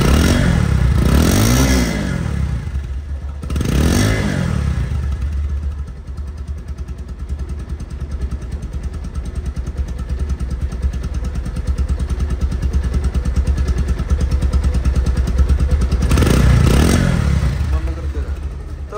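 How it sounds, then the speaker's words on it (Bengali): A Bajaj Pulsar 150cc disc-brake motorcycle engine runs at close range with a steady, rapid thrumming idle, briefly rising with a few revs near the start and end. "এই বাইকটির আপনাদের সাউন্ড শোনাবো"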